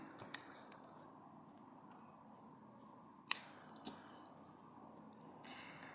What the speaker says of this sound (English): pull up a tail, cut your yarn